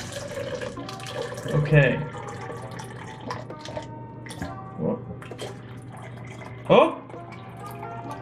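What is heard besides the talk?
water dripping from a homemade cooling pillow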